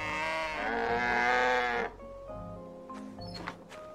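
A cow moos in the farming video game My Time at Portia, one long loud harmonic low followed by quieter game sounds and soft chimes after it fades.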